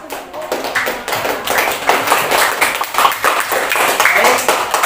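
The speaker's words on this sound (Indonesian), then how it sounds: "Berikan aplaus, bro." Classroom applause from a small group, heard as uneven, fairly close clapping that swells and ebbs for several seconds, with voices mixed in.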